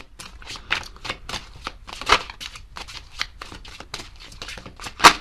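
Tarot cards are shuffled close up in a run of quick papery riffles and soft slaps, each burst short and uneven in rhythm, with one sharper snap at the end.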